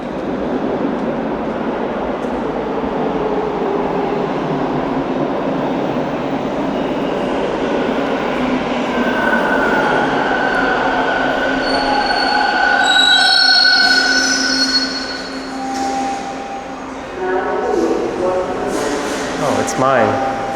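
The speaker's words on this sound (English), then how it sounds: "It sounds like a train is rolling in." A Toronto TTC subway train rumbles into a station, growing louder, with metallic wheel squeals and screeching tones as it slows; faint voices are mixed in.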